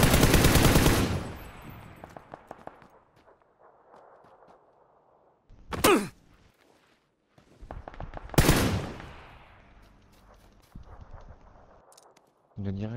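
Gunfire in the battle-royale game PUBG on the Erangel map, a few loud sharp broadband bursts spaced several seconds apart amid quieter game ambience and footsteps.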